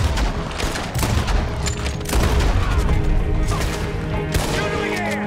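Rapid gunfire in the Red Dead Redemption 2 video game, with dense bursts of overlapping shots and booms going on throughout, and brief shouted voices in the mix.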